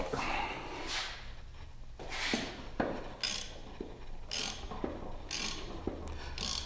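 A ratchet backing a bolt out during an L92 engine teardown, brief ticking bursts repeating at a steady pace, close and fairly quiet, with no talking.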